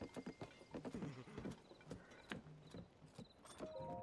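Horse hooves clip-clop in a quick uneven rhythm in the Zelda Tears of the Kingdom video game, with a brief whinny, heard fairly close and faint overall, without talk.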